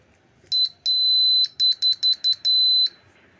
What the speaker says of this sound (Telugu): ఇదేంటంటే పిఎజో బజర్ వాడాను.